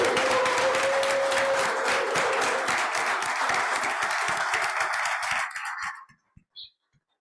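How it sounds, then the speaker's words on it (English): Loud sustained applause from an audience at a board meeting, dense clapping filling the room for several seconds before cutting off abruptly, followed by a few scattered faint sounds. "let's give everybody another round of applause"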